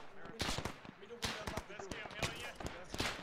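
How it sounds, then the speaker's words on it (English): Gunfire in a WWII video game battle at Carentan with 101st Airborne troops: sharp, close shots crack out irregularly, several in quick succession, while players talk over the fighting. "Ah, they're shooting at me"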